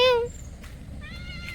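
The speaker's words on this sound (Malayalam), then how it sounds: "ഇതെല്ലാം കണ്ടോണ്ട് പൂച്ച സാറ് ഇവിടെ ഇരിപ്പുണ്ട്." A cat sitting in a Kerala village yard gives a short, clear meow at the start, followed by a fainter second meow a moment later.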